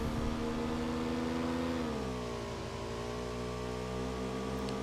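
A motorcycle engine in the PUBG video game drones with a steady, moderately loud hum, its pitch dipping partway through and then settling as the bike rolls on.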